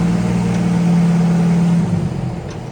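An old barn-find CASE loader's engine revs up and holds a steady, loud droning tone for nearly two seconds, then the pitch drops away as the throttle falls back, since the throttle has no return spring.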